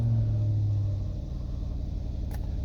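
A Range Rover Vogue Autobiography with the V8 P530 engine settles into a low, steady rumbling idle just after starting, a close, even engine drone with a faint brief click near the end.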